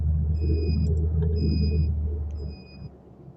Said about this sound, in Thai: รอบเครื่องก็จะขึ้นสูง มันก็ได้เบรกดุนะครับ